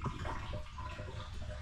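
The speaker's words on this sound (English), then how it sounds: "Cal is filling up the water tank" Water runs steadily into a motorhome's fresh-water tank, a continuous low rushing flow with a faint trickle on top, fairly quiet and close by.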